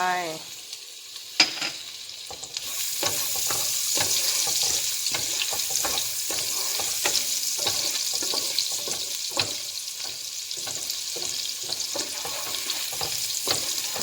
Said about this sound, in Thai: ตั้งกระทะให้ร้อนใส่กระเทียมลงเลยไปนะไปเลยนะคะ